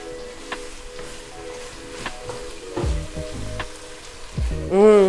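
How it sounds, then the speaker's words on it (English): Garlic sizzling in a hot pan for meat sauce, a soft close crackle with a few taps of a utensil, swelling into louder frying near the end. "Next, I'm going to add the garlic."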